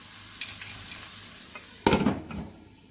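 Goat liver khichuri being sautéed in a pan, with rice and lentils added: a steady sizzle and light scraping, then a loud burst of stirring and spatter near the end, close and without talk.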